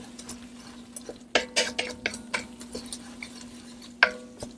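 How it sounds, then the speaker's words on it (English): Flour stirred into butter and onions in a pot for broccoli cheese soup: a utensil scraping and tapping against the pot in an uneven rhythm, with a few sharper clinks, close up over a low background hum. "incorporate the flour into the butter and the onions"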